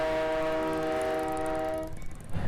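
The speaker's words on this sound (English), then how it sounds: "The Winnipesaukee Railroad was also running trains during the event" A Winnipesaukee Railroad train runs by during a crowded bike-week event, with a loud sustained horn-like harmonic tone for nearly two seconds that cuts off into rumbling, uneven rail and street noise.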